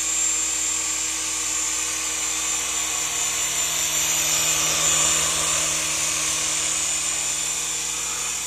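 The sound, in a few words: Syma S107G remote control toy helicopter flying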